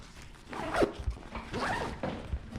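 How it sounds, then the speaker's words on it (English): A zipper runs along the fabric panel cover of a Haulotte lift's basket control panel in a few rough, close scraping pulls, with no talking over it. "We'll zip up our panel cover"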